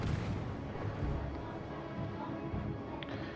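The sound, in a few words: naval gunfire from HMS Tiger in video game World of Warships Legends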